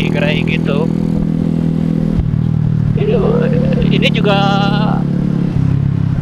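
A Suzuki Shogun SP 125 racing motorcycle engine drones steadily while riding, its pitch rising and falling with the throttle, with a person talking loudly over it throughout.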